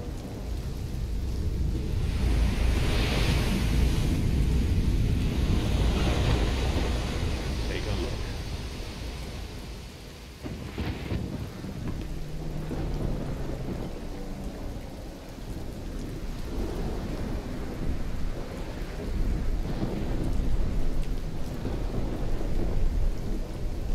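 A thunderstorm rolls through in Risen 2: Dark Waters, heavy rain and a dense rushing wash with low rumbling thunder and surf filling the scene steadily, with voices faintly talking beneath.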